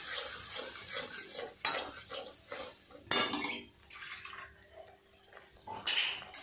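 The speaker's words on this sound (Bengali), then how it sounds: "গ্যাস কমিয়ে দিয়ে ভালো করে এটা নেড়ে নেড়ে কষিয়ে নেব।" Spice paste and yogurt are stirred in a pan over lowered heat, giving repeated scraping and clinking of a utensil against metal in an uneven rhythm, quiet and close, with a soft wet hiss in places.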